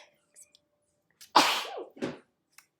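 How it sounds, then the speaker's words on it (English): A single sharp human sneeze, close and loud, with a quick inhale before it and a short breathy tail afterward in an otherwise quiet room. "oh, can't sneeze these days, it scares people"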